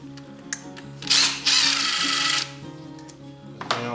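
A power driver backing 8mm side cover bolts out of a 1987 Yamaha Warrior 350 engine: two short, loud whirring bursts up close against a low background hum, followed by small clicks.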